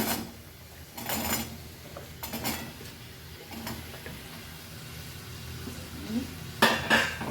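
Bottle gourd pieces mixed in a pan, giving a few spaced bursts of scraping and clinking from the spoon against the metal, soft and close with quiet gaps between strokes.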